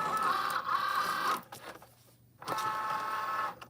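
A Cricut Joy cutting machine whirs and buzzes as it works on a foiled card, with motor runs broken by a short quieter pause near the middle, heard alone at close range.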